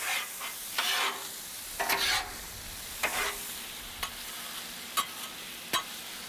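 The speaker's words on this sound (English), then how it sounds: "Stir that all together. Get those seasonings mixed in there." Seasonings are stirred together in a sizzling pan on a grill, with a low frying hiss broken by a handful of close spatula scrapes and sharp taps at irregular intervals, with no talk.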